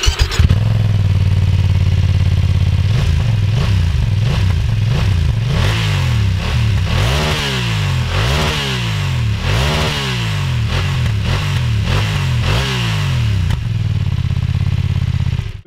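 A BMW F900R motorcycle on a racetrack revs hard through a series of rising sweeps, with quickshifter upshifts cutting in rhythmically every second or so, loud and close, before settling back to a steady idle.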